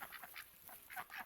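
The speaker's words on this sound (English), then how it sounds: "And then there's ducks in here too." Ducks quacking in a farm pen kept apart from chickens, a few short nasal calls in quick bursts, fairly faint and slightly distant, with no talk over them.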